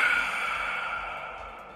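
Michael Myers lets out a breathy, sighing exhale when stunned in Dead by Daylight. It is a single close, soft breath that fades gently over under two seconds.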